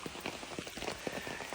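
Rain falls at night beside a small stream deep in the mountains, a dense, steady patter of drops striking nearby surfaces, close and continuous.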